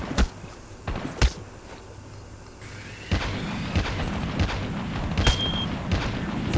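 Gunfire in Call of Duty Mobile battle royale, a handful of sharp isolated shots, some distant, others close and loud, with booming impacts and game ambience between them.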